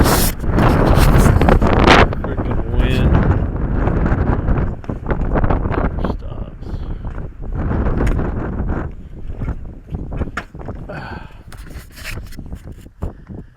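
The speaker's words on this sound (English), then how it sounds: "Freaking wind. Never stops." Strong, gusting wind buffeting the microphone outdoors on a rural road, a loud roaring rush that swells and fades in uneven blasts with some faint knocks.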